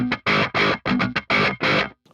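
Hard-picked staccato chugs on a distorted electric guitar through a Mesa Dual Rectifier amp, six or seven tight, loud bursts separated by sharp silences.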